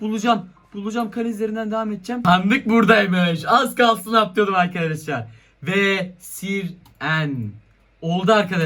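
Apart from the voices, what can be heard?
None of the usual background noises is heard.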